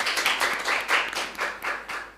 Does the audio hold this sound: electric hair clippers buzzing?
no